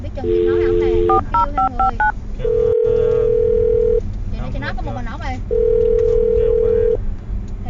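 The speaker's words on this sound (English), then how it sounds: "I'm going to dial this phone right now." A telephone is dialed on a radio show: bursts of touch-tone keypad beeps in quick succession alternate with long steady ringing tones, loud and close, with voices talking underneath.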